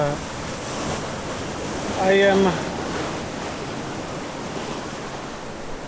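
Sea waves and surf wash against rocks on the Madeira coast, a steady, close roar of broadband rushing water, with a brief voice cutting in midway.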